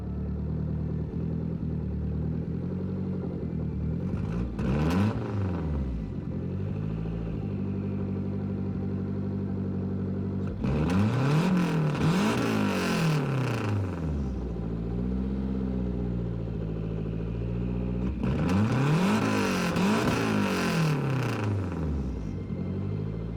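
1992 Lancia Delta HF Integrale rally car engine in Gran Turismo 7, idling with a steady rumble broken by three sharp revs that rise and fall, loud and close with no talk.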